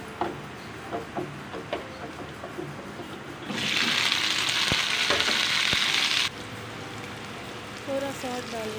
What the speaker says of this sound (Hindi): फिर इसको ऑयल में फ्राई करेंगे, ब्राउन होने तक फिर निकाल लेंगे।